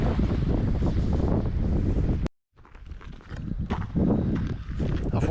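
Small waterfall tumbling down a Scottish hillside in a glen, a steady close rush of falling water with wind buffeting the microphone, briefly cut out midway before resuming.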